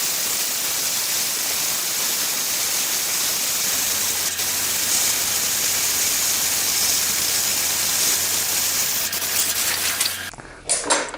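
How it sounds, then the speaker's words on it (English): Compressed air blasts dust and debris out of the drive chain of a DeWalt DW735 thickness planer, a steady, loud hiss that runs unbroken for about ten seconds before cutting off into a few faint clicks. "blow with compressed air to get the dust and crust out of there"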